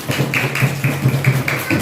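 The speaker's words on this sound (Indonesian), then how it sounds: "Tepuk tangan dulu untuk kita semua ya" A fourth-grade class in an Indonesian school claps hands together in quick rhythmic bursts, a steady patter of many palms filling the room at close range.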